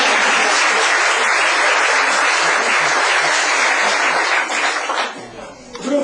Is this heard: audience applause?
yes